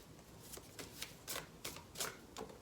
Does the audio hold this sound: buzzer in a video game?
no